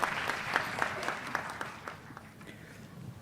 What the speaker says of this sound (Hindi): जोरदार तालियों के साथ स्वागत श्री प्रकाश बर्तूनिया जी का